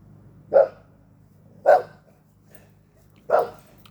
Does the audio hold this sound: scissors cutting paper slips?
no